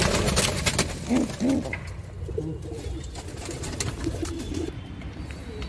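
Pigeons coo in low, soft bursts in a hot rooftop loft, with a few clearer calls early on and quieter cooing and rustling after, no speech.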